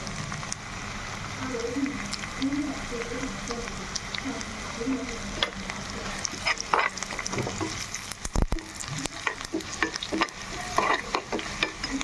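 Curry leaves and turmeric frying in a pan as a tempering, a soft continuous sizzle with occasional crackles and a few sharp spatters, while a person talks quietly over it.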